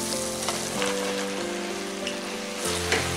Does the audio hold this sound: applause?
no